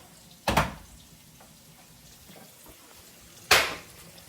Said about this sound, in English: If y'all hear that popping, my grandma got a fire going